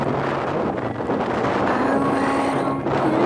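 Strong squall wind roars across an open microphone aboard a sailboat carrying too much sail in Indonesian waters, a steady loud broadband rush with faint tonal hums from rigging or motor beneath.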